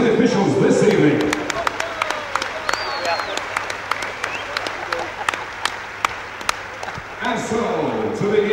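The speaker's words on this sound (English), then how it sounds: "Can we have a round of applause, please, for the officials this evening?" Audience applause for the officials at a K1 fight event, a steady wash of clapping from a crowd lasting several seconds, with an announcer's voice heard at the start and again at the end.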